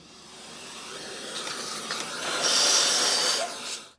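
A bench vacuum whooshes steadily as it cleans a part from an Oreck magnesium upright vacuum cleaner during repair, the airy hiss swelling louder toward the end before cutting off abruptly; no talking.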